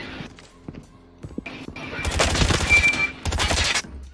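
Bursts of rapid gunfire from the mobile shooter game Call of Duty Mobile, sparse shots first then dense automatic volleys in the second half, loud and punchy with game effects around them.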